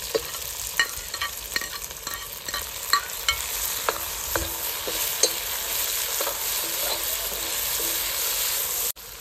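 Green chili and tomato hit a pan of golden fried onion for Maharashtrian palak batata bhaji, sizzling steadily under repeated clinking stirs, no voices.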